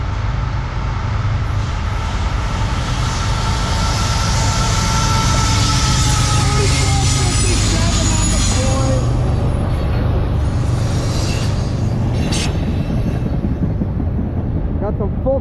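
A CSX ethanol tanker freight train hauled by ET44AH and ES44DC locomotives rumbles past steadily and close, with a continuous low roar, clanking wheels and occasional metallic squeals layered over the drone.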